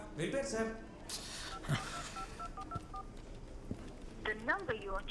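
Touch-tone keypad beeps from a phone being dialed, though the phone is switched off: a quick run of evenly spaced tones in the middle, with people talking before and after.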